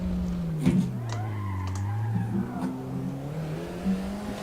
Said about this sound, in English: I hear that Supra from here